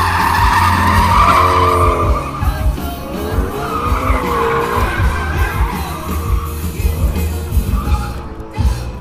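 Race cars drifting past at SEMA 2016 with loud, wavering tire squeals and roaring engines, close by, while a crowd murmurs in the background.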